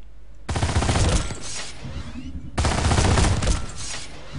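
Gunfire at targets in Planetside 2 while aiming down sights: two loud sustained bursts of rapid shots, the first about two seconds long, then a brief pause before a second burst of similar length.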